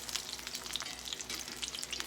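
Okra and onion fritters fry in oil in a cast iron skillet, giving a steady, fairly quiet sizzle with crackles and pops close by. Nobody speaks.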